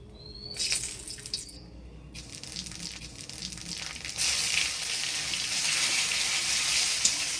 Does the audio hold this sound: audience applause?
no